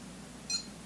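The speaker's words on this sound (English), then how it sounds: "hold down the gauge button till it beeps" A single short electronic beep from a Bully Dog BMP Axys gauge tuner as its gauge button is held down, faint and brief over a low steady hum.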